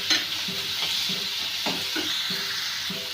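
Chopped tomato sizzles in a hot pan for upma, with a close, steady frying hiss broken by a series of rhythmic stirring scrapes roughly every half second.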